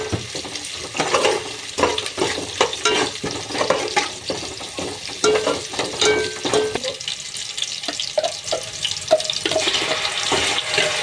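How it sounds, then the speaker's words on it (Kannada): Ground masala going into a pot of sambar, with a continuous wet sloshing, stirring and faint sizzling texture with scattered clinks, close and fairly loud. "ರುಬ್ಕೊಂಡಿರೋ ಮಸಾಲೆಯಲ್ಲಿ ಅರ್ಧದಷ್ಟು ಮಸಾಲೆನ ಸಾಂಬಾರ್ಗೆ ಹಾಕ್ತಾ ಇದ್ದೀನಿ"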